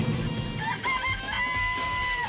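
Chickens in a coop in Danganronpa: Trigger Happy Havoc cluck and crow in short, close, wavering calls over a low steady background hum, without talk.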